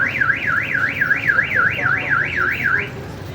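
Car alarm going off: a loud, steady siren sweeping up and down in a rapid, regular warble, close and continuous for about three seconds.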